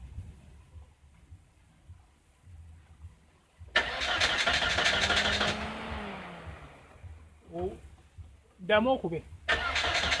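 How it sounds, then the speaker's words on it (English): A Volvo S40 with a misfire is cranked by its starter in a sustained loud whirring burst, followed by shorter cranking attempts, with a person speaking briefly between them. "I have an assistant to crank the engine"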